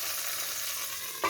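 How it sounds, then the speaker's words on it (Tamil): Steady close sizzle of tamarind water simmering in a pan of sautéed garlic, a continuous bubbling hiss with a brief knock near the end. "நம்ம வந்து பாருங்கள் புளி கரைசலை இதில் ஊற்றிக்கலாம். இது கொஞ்சம் நேரம் கொதிக்கட்டும்."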